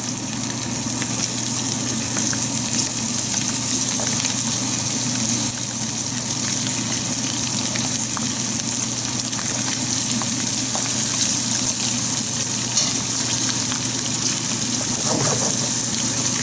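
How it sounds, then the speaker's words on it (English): Tinda frying in a pan after a cornstarch coating, a steady dense sizzle and bubbling hiss of hot oil holding close and even throughout with no talk. "Let it fry for a few minutes till it's golden"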